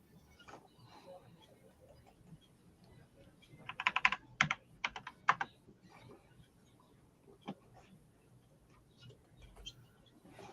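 Someone typing on a computer keyboard during a live chat, with a quick burst of crisp key clicks in the middle and scattered single taps before and after, fairly close, with faint background talk.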